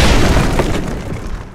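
A heavy cinematic boom effect for a superhero landing impact, built in HitFilm Express: one loud low thud that rolls into a long rumbling decay, with no voices.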